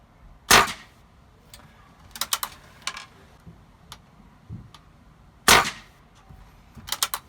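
Air rifle shots fired at a target while zeroing a scope, sharp cracks near at hand: one loud shot, a quick cluster of lighter snaps, then a second loud shot followed by more short clicks.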